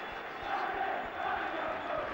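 Football crowd in a stadium at a West Bromwich Albion v Liverpool or Middlesbrough v Sheffield Wednesday league match reacting to a substitution, a distant, steady murmur and roar of disapproval with no clear individual voices.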